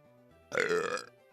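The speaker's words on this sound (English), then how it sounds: "I ate like 3 bananas before the stream. That's why I'm burping a lot." A single drawn-out burp after a meal of bananas and a bit of fizzy drink, loud and close, lasting about half a second and standing alone against quiet room tone.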